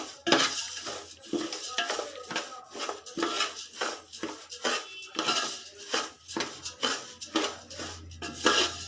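Broken wheat, 400 grams of it, is toasted in a pot for a vegetable khichdi while a spoon scrapes and clatters against the metal in quick, repeated strokes.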